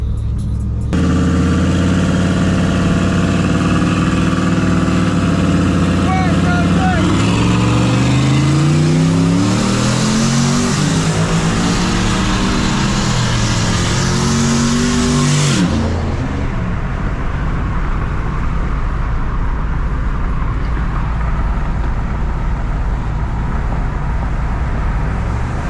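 A cammed 6.2 Chevrolet Silverado truck engine rumbles loudly nearby, revving up and down, then settling into a steady drive with road noise.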